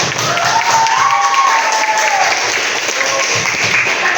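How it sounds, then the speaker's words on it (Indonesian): A classroom group claps for a student, a steady patter of close, dense applause running the whole time, with a thin whistle-like tone drifting over it and no clear speech. "Kita beri aplaus dulu untuk Mbak Ica"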